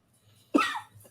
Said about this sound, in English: I've had this like annoying cough all day